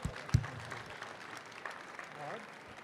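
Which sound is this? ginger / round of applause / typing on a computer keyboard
round of applause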